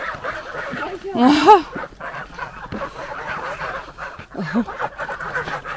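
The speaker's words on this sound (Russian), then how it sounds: "Ой, индюки бегают." Turkeys running about a farmyard give honking, gobbling calls, one louder cry in the middle and another near the end, mixed with clatter and a short spoken reply nearby.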